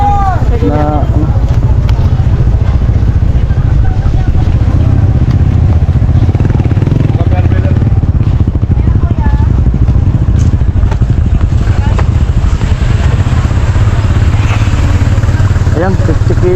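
A motorcycle engine idles and runs steadily close by, a loud, low, continuous rumble with some clatter, while people talk over it throughout.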